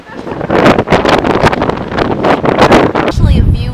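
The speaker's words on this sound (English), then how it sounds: "today is very windy" Strong wind gusts in Manarola, Italy buffet the microphone in loud, rough surges that swell and fall irregularly, with a voice faintly mixed in near the end.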